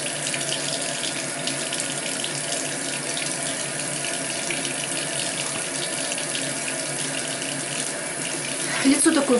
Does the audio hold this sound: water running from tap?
yes